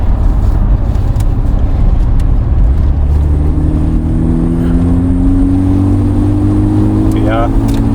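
A Mk3 Golf GTI engine accelerates hard through a corner, a loud, steady drone with a rising tone building over the last few seconds.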